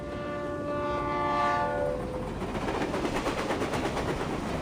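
Train in the video game Reverse: 1999, with a horn note sounding over rolling wheel noise that builds into a steady clickety rumble, loud and continuous with no talk.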